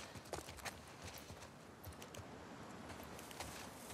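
Horse clip-clopping in The Last of Us Part II, a steady run of close hoof clops and shuffles over a constant outdoor ambience.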